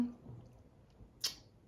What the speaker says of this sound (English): You get to hear his manly sneeze.